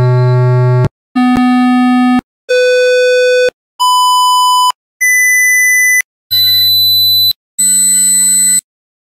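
A series of seven pure test tones, stepping through different pitches with brief pauses between them, each held roughly a second, played another 20 dB lower in level.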